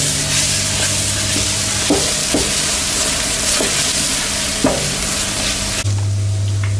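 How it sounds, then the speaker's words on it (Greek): Semolina halva is stirred in a pot as it thickens, a steady close sizzle and hiss broken by a few scraping knocks of the spoon, with no talk. "Θα τον ανακατέψουμε κι άλλο μέχρι να γίνει μια μάζα"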